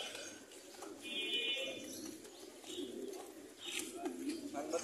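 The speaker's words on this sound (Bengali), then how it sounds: "মিরপুর এক কবুতরের হাট।" Pigeons coo at Mirpur 1 pigeon market in Dhaka, Bangladesh: low, soft, repeated cooing runs through a busy market background with faint chirps.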